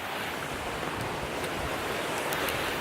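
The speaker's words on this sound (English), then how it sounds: "It's like super fast running fresh water all around with this red rocks." Fast fresh water rushes through a stream among red rocks outdoors, a constant, loud, broadband roar with no breaks and no voices.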